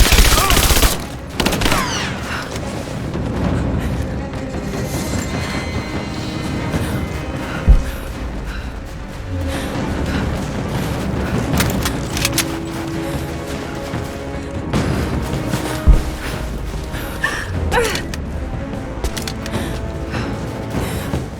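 Gunfire in the Rise of the Tomb Raider video game: sustained, loud bursts of automatic weapon fire with scattered single shots and mechanical clatter, continuous through a busy combat scene.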